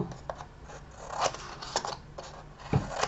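Scissors snip through paper while an autumn-themed album is being crafted, giving a handful of short, crisp cuts spaced irregularly over a soft room background, close and moderately quiet.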